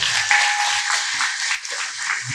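Audience applause at a Guru Purnima morning meditation gathering, a steady dense wash of clapping held for a couple of seconds at moderate loudness, with no voices over it.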